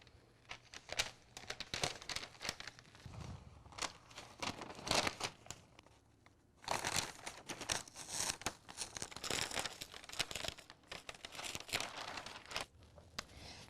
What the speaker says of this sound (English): I'm just gonna carefully remove the butcher's paper from the top of our